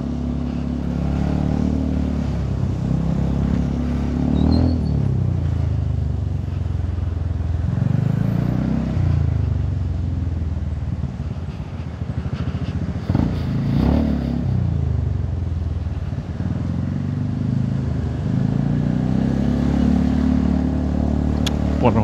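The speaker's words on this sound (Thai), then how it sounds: "เจอรถติดอย่างนี้ตลอดเส้นจนถึงบ้านใช่ไหมเนี่ย" Road traffic in a jam, cars and motorcycles idling and creeping along, a continuous low engine rumble with periodic swells as vehicles pass close by, heard from inside a Ford F350 pickup.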